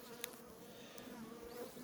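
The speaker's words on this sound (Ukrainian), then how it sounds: "От з даної сторони бачимо набагато більше бджоли." A dense, steady hum of many honey bees buzzing together close by at a hive frame, faint overall, with a brief click near the start.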